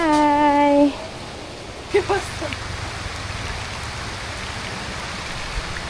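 Rain falls steadily outdoors as a soft, continuous hiss after a brief voice at the start, with a couple of short knocks partway through.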